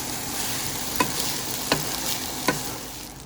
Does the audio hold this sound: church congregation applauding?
no